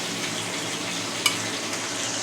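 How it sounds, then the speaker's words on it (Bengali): Pieces of shol (snakehead) fish fry in a pan beside potatoes and grated tomato, giving a steady, moderately loud sizzle throughout with one brief sharp clink of a utensil partway through. "শোল মাছটা ভাজা হচ্ছে"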